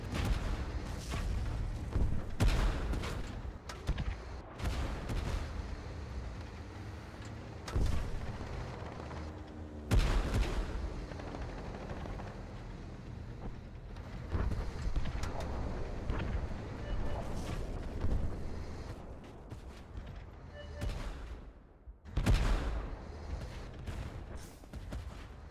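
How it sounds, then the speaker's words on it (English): Artillery bombardment in the modern tank battle game Tank Force, with repeated heavy booming blasts and rumbling impacts scattered over a constant wind-like roar, some near and loud, others duller. "We are under bombardment!"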